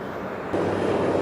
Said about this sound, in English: Looks like the plane is about to take off.